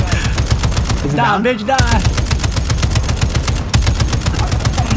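Rapid machine-gun fire from the video game Modern Warfare 2, loud and sustained in dense repeating bursts, with a player shouting over it briefly.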